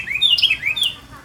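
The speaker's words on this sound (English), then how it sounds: "Okay, you heard the bird." A bird gives a quick series of high, clear chirps, several sharp tweets in a row, near and distinct over a quiet background.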